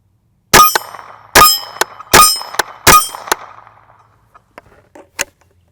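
Four sharp, loud cracks from a Henry U.S. Survival Rifle, fired at a steady pace about a second apart, each followed by a short ringing tail and then a few faint clicks.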